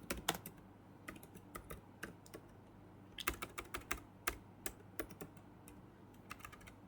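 Rapid bursts of typing on a computer keyboard, clicky keystrokes in uneven clusters with short pauses, close and clear, no voices.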